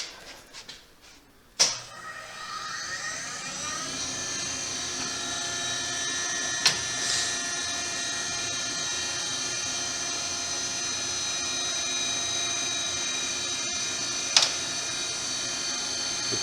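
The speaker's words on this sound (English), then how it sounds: "Set the machine here up and run it." A Brown & Sharpe 814U Valumaster universal grinder starts up and runs steadily, giving a sustained mechanical whine with layered tonal hum and a few faint clicks, with no talking.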